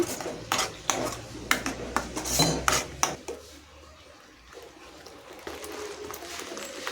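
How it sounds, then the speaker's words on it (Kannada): Chana masala being stirred with a spoon in a pan after a little water has gone in: quick rhythmic clanks and scrapes of metal for about three seconds, then softer, sparser scraping as the stirring slows. "ಇದಕ್ಕೆ ಒಂದೆರಡು ಸ್ಪೂನು ನೀರನ್ನು ಸೇರಿಸಿ ಚೆನ್ನಾಗಿ ಮಿಕ್ಸ್ ಮಾಡ್ಕೊತಾ ಇದ್ದೀನಿ"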